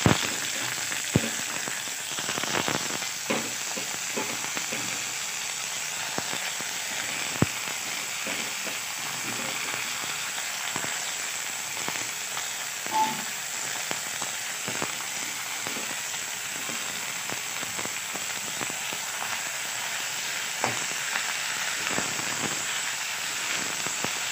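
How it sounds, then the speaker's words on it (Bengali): Leafy greens frying in mustard oil with chili and onion, a steady close sizzle and hiss running throughout with scattered small pops and crackles, no talking. "ଶାଗ ଭଜା ବାସ୍ ଲଙ୍କା ପିଆଜ ସୋରିଷ ତେଲ ବାସ୍ ନର୍ମାଲି ଶାଗ ଭଜା"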